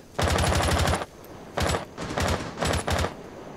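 Automatic gunfire in the video game Rainbow Six Siege: a close, loud rapid burst, a short pause, then two or three shorter bursts of fast rattling shots, with almost no talk.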